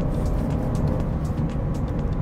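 Cabin hum of an Audi A4 mild-hybrid sedan accelerating on the road, a steady low engine drone and road rumble heard from inside, fairly loud and continuous with no talking.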